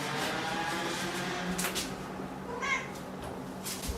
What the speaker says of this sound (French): Ce chat n'a rien à foutre ici.